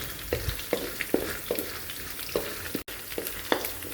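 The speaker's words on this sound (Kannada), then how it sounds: "ಶೇಂಗಾ ಹಾಕೊಳ್ಳಾಕತ್ತೀನಿ. ನೋಡ್ರಿ ಹಾಕೊಂಡೆಲ್ಲ ಮಿಕ್ಸ್ ಮಾಡತ್ತೀನಿ." Peanuts and urad dal crackle and fry in a pan for poha, with regular spoon strokes stirring them over a close, continuous sizzle.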